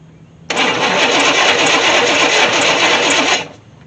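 The starter of a 1964 Chevy Impala SS convertible, flooded and without a choke, cranks hard in one continuous whirring three-second burst, close and loud, with rapid rhythmic chugging but no catch.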